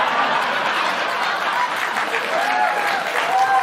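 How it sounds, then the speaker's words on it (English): Villagers in India cheer and applaud for Kamala Harris's presidential bid, a sustained crowd clatter of clapping and excited voices, dense and fairly loud throughout. "in her ancestral Indian village, people are cheering for Kamala Harris's presidential bid"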